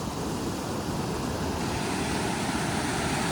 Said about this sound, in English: waterfall chute here.